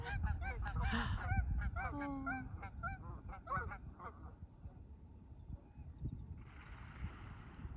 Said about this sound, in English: Oh, are they fighting the Canadian geese?